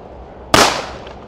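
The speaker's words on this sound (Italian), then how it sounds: "Vado con il petardino Puma." A single Puma firecracker goes off outdoors, one sharp loud bang followed by a short fading echo and crackle.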